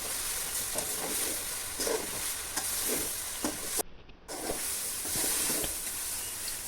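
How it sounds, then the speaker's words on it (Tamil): Torn dosa pieces stirred with masala in a pan for kothu dosa: steady frying hiss with repeated scraping strokes of a spatula, one brief dropout midway, no talking. "இப்போ இந்த தோசையில் மசாலா போடுற மாதிரி எல்லா பக்கம் நல்லா கலந்து விட்டுக்கிடுவோம்."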